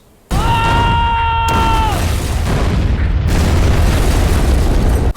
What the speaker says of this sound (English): leading to our anticlimactic climax of shitty explosion effects